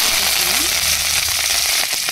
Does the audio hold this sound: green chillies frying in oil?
yes